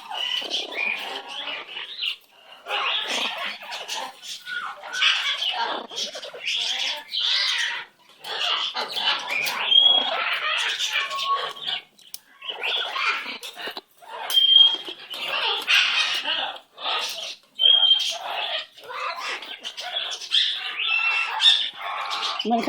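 A pet bird indoors calls and squawks almost nonstop, with harsh squawks, chirps and short whistles in uneven bursts, close by and moderately loud.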